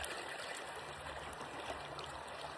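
A clear creek streams around a boulder mid-channel on a forest trail, giving a steady, even rush of flowing water throughout, close and fairly soft, with no talking.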